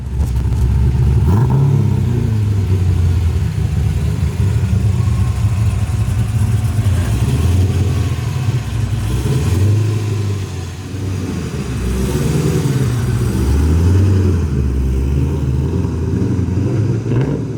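A BMW E36 M3 with a swapped-in LS V8 rumbles loudly at idle, its deep engine note rising and falling through a series of throttle blips and revs before settling back down.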